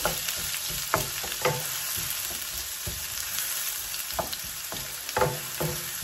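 A medium onion sizzles in hot oil with a pinch of panch phoron for chicken mushroom korma, a steady close crackle with occasional stirring scrapes and clicks, and no talking.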